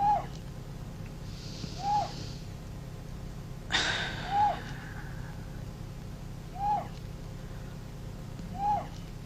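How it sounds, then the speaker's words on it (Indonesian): A lone bird gives short, hooting calls at night, repeating every couple of seconds against a quiet background, with a brief rustling burst partway through. "Kau dengar suara burung itu?"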